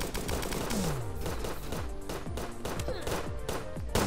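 Rapid pistol gunfire in the video game Starbound, a dense string of close, punchy shots with descending synthetic zaps layered over a steady game soundtrack.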